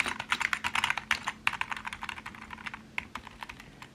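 Rapid, uneven typing on an LVLUP Pro gaming keyboard with LED keys, tight-feeling keys producing a dense stream of crisp clicks and clacks up close, quiet overall with no voices.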